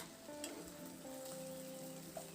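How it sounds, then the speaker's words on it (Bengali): Oil sizzles and crackles continuously as teasel gourd pieces fry in a pan, with a soft stirring scrape partway through. "কাঁকড়লটা দেখুন ভাজা ভাজা হয়ে গেছে"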